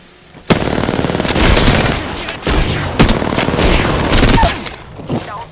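Heavy gunfire in the Apex Legends battle royale on PS4, loud and close, with rapid automatic bursts and overlapping shots sustained for several seconds, a few sharp single reports standing out before it tapers off.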